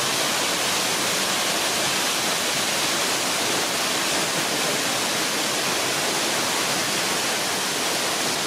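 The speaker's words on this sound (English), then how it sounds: "This is waterfall called Malý Prštavac" The Malý Prštavac waterfall at Plitvice Lakes, Croatia, roars as a loud, steady, unbroken rush of falling water, close and alone, with no voices.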